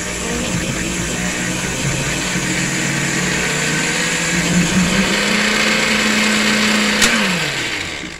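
An electric mixer whirs steadily as it mixes sugar into brown sugar, a loud, even motor hum that holds its pitch and drops away as the beaters slow at the end.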